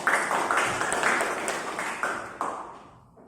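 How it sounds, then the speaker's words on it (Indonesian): A small group clapping at a vocational school session, a brief burst of hand claps that fades away toward the end. "Tepuk tangan untuk kita semua"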